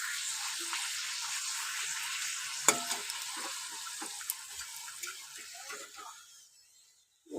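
Papad frying in hot oil, puffing up, gives a light bubbling sizzle with scattered crackles and a sharp pop, gradually thinning out toward silence.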